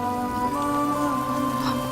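Steady rain falls throughout, a continuous even hiss with a faint tonal music-like bed underneath, fairly close and uninterrupted, with no talking.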